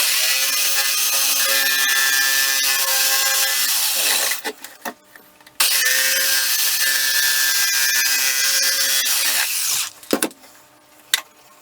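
Plastic drain pipe is sawn by a power tool in two long, loud, steady bursts of a few seconds each, separated by a short pause and followed by brief clatter.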